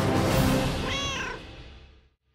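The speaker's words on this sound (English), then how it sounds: "And the introduction of cats. These furry felines will follow you on adventures across the seas." A cat in the Sea of Thieves pirate video game lets out a single short meow over a loud, washing background of sea or wind noise that fades away to silence.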